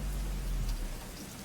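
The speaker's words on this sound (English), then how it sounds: "But the pounding rain on my head washed that thought away." Pounding rain, a dense, steady hiss of drops beating down on surfaces, loud and close and unbroken, with a low rumble underneath and no voices.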